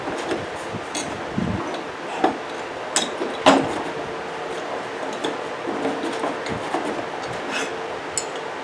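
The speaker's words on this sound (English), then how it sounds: "But all we're going to do is slide the bolt through the hole." A bolt is worked through the hole of an aluminum Sunex 3-ton jack stand, giving scattered metallic clicks, taps and scrapes close by, with one sharper clank midway.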